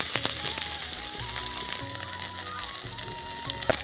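Dry red chilli, crushed ginger and chopped onion frying in oil in a pan, a steady broad sizzle with scattered crackles, close and moderately loud, with soft background tones underneath.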